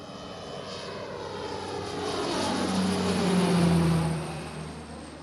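A Cessna C208 propeller aircraft flying past, a steady drone that swells as it nears, peaks with a throbbing propeller hum, then eases as it moves away.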